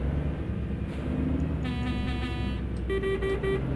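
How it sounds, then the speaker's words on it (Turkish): Two short bursts of a deep, tonal truck horn in a video game, a MAZ-6422 truck, over a steady engine rumble, the second blast shorter and higher. "İki tane kornası var."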